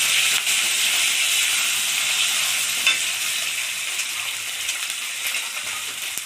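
Fish heads fry in a pan of hot oil for a Bengali jhol, giving a loud, steady, hissing sizzle that runs without a break, close up and with no voices.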